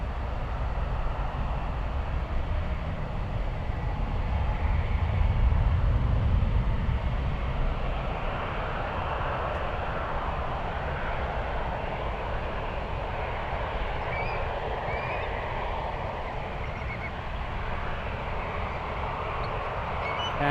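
An airliner jet passes at San Francisco International Airport, heard as a broad continuous roar that swells and then holds at a steady, fairly loud level, distant rather than close, with no voices.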